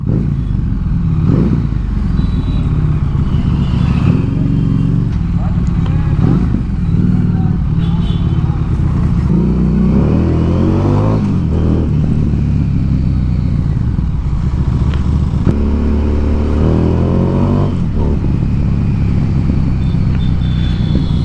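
A Harley-Davidson Street 750 motorcycle revs its exhaust in a few rising and falling bursts, loud and close, over a steady engine rumble, with people talking throughout.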